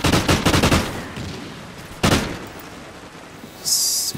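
An MSBS assault rifle in a shooting video game fires a quick, close burst of rapid shots, followed a moment later by a single sharp report and then a quieter stretch.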